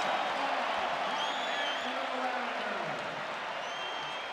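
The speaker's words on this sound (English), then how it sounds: "This is a crowd that's having a lot of fun here. They are very, very into it." Spectators at the 2003 McDonald's All American basketball game keep up a steady roar of cheering and clapping, with a commentator talking over the crowd.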